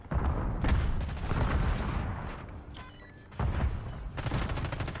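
Rapid bursts of gunfire in a video game firefight, dense volleys that drop away briefly before another loud barrage kicks in, close and alone.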